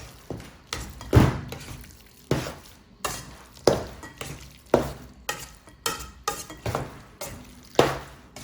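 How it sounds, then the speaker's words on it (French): Leeks and broccoli being mixed in a pan for a green vegetable hachis parmentier: repeated spoon strokes and scrapes in an uneven rhythm, close and fairly quiet, with a faint sizzle between them. "Je prends les brocolis. On mélange."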